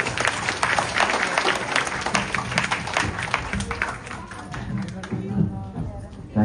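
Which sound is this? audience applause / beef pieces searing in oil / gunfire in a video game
audience applause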